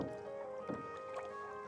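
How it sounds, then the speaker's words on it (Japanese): Water laps and gurgles softly against a paddled boat on a river, with faint splashes over a quiet background. No voices are heard. "大好き、この水の音。"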